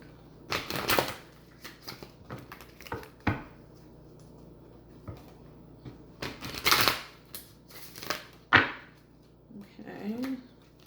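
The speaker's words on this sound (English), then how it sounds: "let's shuffle some because we just used these cards in the previous read" Alice in Wonderland Oracle cards shuffled by hand, several quick riffling bursts and soft taps spread over the stretch, close and quiet, with a voice speaking between them.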